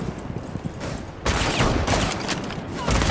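Rapid gunfire in the video game Rainbow Six Siege, with dense, sustained bursts of shots that grow louder partway through.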